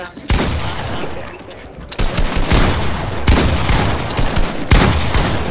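Loud bursts of gunfire from the video game Fortnite, several sustained volleys separated by brief gaps, close and dominant throughout.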